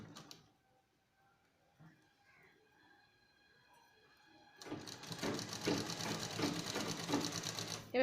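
A sewing machine stitches lace onto a baby frock, starting after a quiet stretch of small handling clicks and running steadily and close for the last few seconds.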